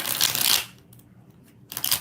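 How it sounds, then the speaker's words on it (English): A deck of tarot cards is riffled and shuffled in two quick bursts, a close, crisp rustling flutter with a quiet pause between them and no voice over it. "Two more shuffles."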